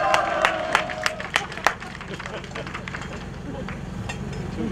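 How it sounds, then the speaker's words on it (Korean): At an outdoor political rally, a crowd gives a few scattered claps and a short round of applause, fairly distant and faint, mixed with murmuring crowd noise and background voices. "박수 한번 주시죠 여러분."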